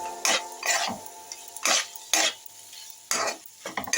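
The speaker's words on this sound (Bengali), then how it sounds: "এবারে আমি চিকেনটাকে কষতে থাকলাম" Chicken is sautéed in a pan, a spatula scraping and stirring in separate loud strokes over a soft sizzle, close and alone without talk.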